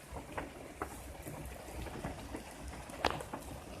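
Steady heavy rain hisses through the night outside a tent at a campground, with a few louder drops or spatters standing out against the continuous wash of sound.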